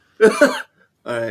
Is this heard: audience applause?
no